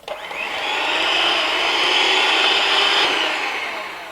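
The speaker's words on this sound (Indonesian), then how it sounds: "Kocok sampai dia kecampur dengan baik, kecepatan tinggi ya." An electric mixer beats chocolate roti boy dough batter at high speed in a bowl, a steady loud whirring whine that rises in at the start and holds evenly for about four seconds, alone with no talk.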